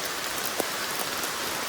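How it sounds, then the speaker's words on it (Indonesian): Afternoon rain on the Gunung Gede hiking trail via Selabintana, a steady dense hiss of raindrops hitting the surroundings up close, with one slightly louder drop. "hujan di sore hari"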